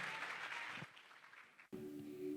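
A church congregation claps for a Christmas morning performance, a moderate round of applause that dies away before a brief musical tone enters.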